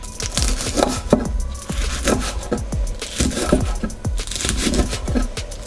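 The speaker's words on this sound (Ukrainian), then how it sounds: "Далі я нарізаю невеличкими шматочками бекон." A knife chops bacon into small pieces on a cutting board, giving quick irregular thuds and scrapes in a steady run without talk.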